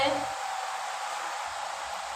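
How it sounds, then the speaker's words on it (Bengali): Palm fruit fritters (taler bora) deep-frying in oil, giving a steady, dense, close hiss of sizzling that holds at an even level throughout the short stretch. "দেখুন বন্ধুরা বড়াটা ভাজা হচ্ছে"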